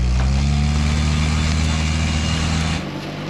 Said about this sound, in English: Give it a little more gas.